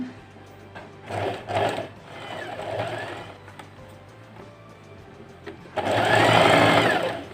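Sewing machine stitching fabric with a half-inch seam during traditional Kadazandusun garment sewing, running in short bursts and then a longer steady run, close and loud, with a few quiet pauses between.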